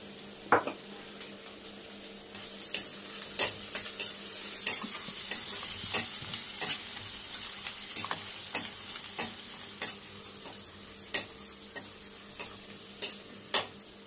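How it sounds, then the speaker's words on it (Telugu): Onions fry with turmeric in a pan, making a continuous soft sizzle. Sharp scraping strokes of a stirring utensil recur at close range throughout, with no talking. "ఉల్లిపాయలు మంచిగా ఫ్రై అయ్యి"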